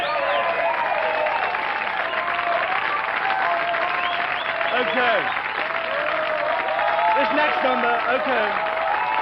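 A live audience applauds steadily through the whole stretch after a band finishes a song, a dense wash of clapping with some cheers, while a performer talks over it briefly near the end.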